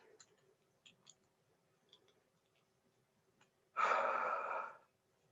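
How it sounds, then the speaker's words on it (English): One long breath pushed out through a snug, thick face mask, a soft airy rush after a few faint clicks and small mouth sounds in quiet surroundings. "I'm breathing out"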